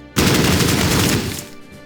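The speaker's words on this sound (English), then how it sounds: "Suppressive fire." Suppressive gunfire in the war video game Battle Academy: a dense, sustained burst of rapid shots erupts suddenly, holds loud for about a second, then tapers off into a fading tail.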